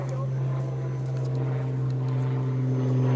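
A small model airplane's motor runs at a steady, humming drone just before a hand launch, holding one pitch throughout while people talk nearby.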